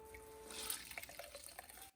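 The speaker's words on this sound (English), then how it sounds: "Squeeze out the water" Water is squeezed out of soaked stale Italian bread by hand, giving faint wet trickling and dripping spatters with a soft kitchen hiss behind them.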